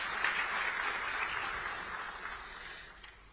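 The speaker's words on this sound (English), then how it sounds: "Shall we applause for the heads of state?" Applause for heads of state at an emergency regional summit: a broad, moderate wash of clapping from a large audience, fairly distant and fading slightly over a few seconds.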